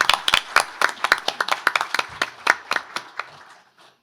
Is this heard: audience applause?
yes